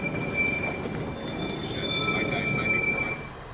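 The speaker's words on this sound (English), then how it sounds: "1966 built diesel-electric DI-1102, which had just been pressed into service" A restored 1966 diesel-electric locomotive, DI-1102, rumbles steadily along a heritage railway, with a faint metallic wheel squeal and a thin high whine riding over the continuous low engine drone, heard close and alone.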